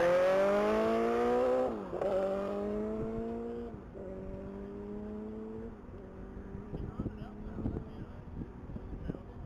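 A 2007 Kawasaki Ninja ZX-14 races at the Texas Mile toward the one-mile speed trap, its engine whine climbing in stepped gear shifts before fading into wind noise as an announcer talks.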